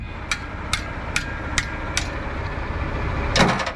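Five evenly spaced sharp metallic hammer strikes ring out over a low steady engine hum, followed by a heavier, louder clatter near the end.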